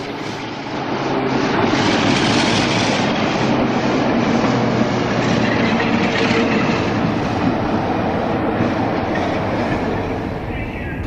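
Class 46 diesel locomotive 46052 runs on toward Leicester Depot, its engine drone and rolling wheel noise building quickly and then holding steady and loud, close by, with a slight fade at the end.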